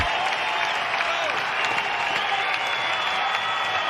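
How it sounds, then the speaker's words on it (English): Stadium crowd noise at an Oregon State baseball super regional game in the bottom of the ninth, with a dense, steady roar of cheering and applause throughout, loud and sustained without letting up. "And this crowd is feeling it."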